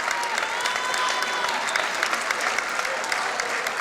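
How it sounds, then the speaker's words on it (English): Fans applaud steadily at a college women's basketball playoff game in a gym, a dense, even round of clapping heard close and alone for a few seconds. "Nice round of applause for the Skyhawks from the Stonehill fans."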